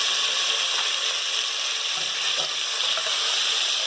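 Pistachios, almonds and raisins roasting in a pan give a steady bright sizzle, with a few faint scrapes of stirring and no talking.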